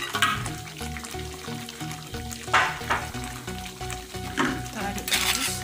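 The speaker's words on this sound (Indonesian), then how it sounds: "Kita aduk terus." Crab in Padang sauce stirred in a pan with steady frying sizzle and occasional scraping of the utensil, close and loud, with a voice talking over it.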